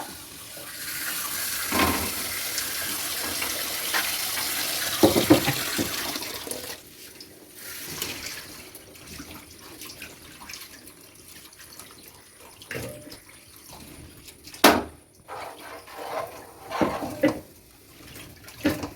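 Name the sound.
water running while washing tapioca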